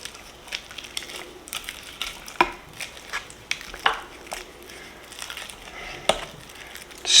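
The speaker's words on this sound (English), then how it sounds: "we're just going to scrape down the sides of the bowl" A spatula scraping down the sides of a mixing bowl of beer cheese, a series of short scratchy strokes and light taps at an uneven rhythm, fairly close and moderately quiet.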